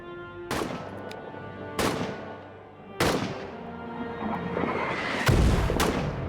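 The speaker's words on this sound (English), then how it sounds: "Did that artillery shell just hit us?" Artillery and gunfire in a World War I trench warfare video game, several sharp booming blasts spaced a second or so apart, each with a ringing decay over steady battlefield rumble, one heavier low thump near the end.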